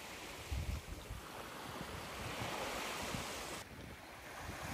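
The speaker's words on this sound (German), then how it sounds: "und die Ostsee plätschert vor sich hin." Gentle Baltic Sea waves lapping and washing on a beach at sunrise in a steady, soft murmur, with a breath of wind across the microphone.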